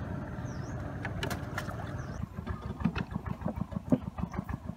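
A boat engine runs on the Tonle Sap river, a steady close rumble that drops into a lumpier, pulsing idle midway through, with water and ambient noise around it.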